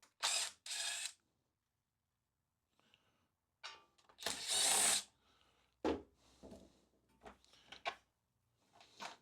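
A hand ratchet loosens 10 mm bolts on the cover of a Craftsman snow blower, heard as short, sharp clicking bursts separated by quiet pauses, close by and with no speech.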